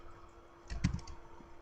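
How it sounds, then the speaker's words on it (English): A short, close burst of keystrokes on a computer keyboard as a web address is typed into a browser, with no voice. "you type in this window here, the top one, the web address, the URL for the website"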